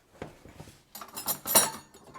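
Stacked metal kitchenware clatters and rattles as a strainer is tugged out of a pile, with a few soft knocks first and then a burst of louder jangling clanks close by.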